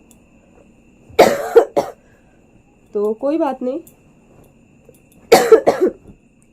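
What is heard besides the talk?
coughing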